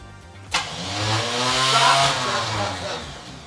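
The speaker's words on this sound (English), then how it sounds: "The starter turns, but the starter drive is not geared in." The starter motor of a 1960s Chevelle that has not run in 35 years spins freely without its drive gearing in, a sudden whirring onset that rises into a steady, high, rising whine for about three seconds with no engine firing.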